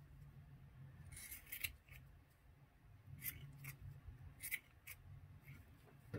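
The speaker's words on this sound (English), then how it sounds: "Trim up the bottom of my fabric." Small scissors trim the bottom of a fabric piece for a miniature dollhouse fabric bolt. A few quiet, close snips come in short bursts over a faint low background hum.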